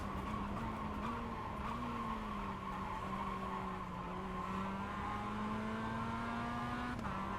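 A race car in the iRacing game runs a qualifying lap, its engine holding a steady high drone that rises and falls slightly through gear changes and corners, continuous and up close, with tire scrub underneath.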